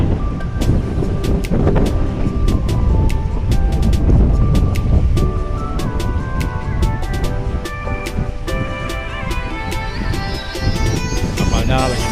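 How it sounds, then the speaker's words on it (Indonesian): Strong night wind buffets the microphone at Bakauheni harbour beside a docked ferry, a loud continuous roar and rumble with chiming tones and clicks layered over it. "Untuk cuaca malam ini anginnya kencang banget"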